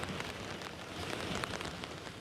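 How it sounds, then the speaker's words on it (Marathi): Heavy monsoon rain pours steadily across Washim district, a dense, even hiss of drops striking surfaces with no pauses, loud and continuous, with no voices. "काल रात्री 8 वाजल्यापासून बरसणारा पाऊस सकाळपर्यंत पाऊस कायम आहे"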